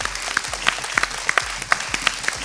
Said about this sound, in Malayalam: നമുക്ക് ഇപ്പം നല്ലൊരു കയ്യടി കൊടുക്കാവോ?